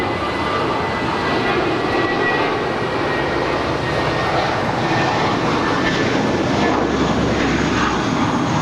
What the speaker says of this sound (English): Our next departure is JetBlue Airways Flight 1080 heading to Las Vegas in an A320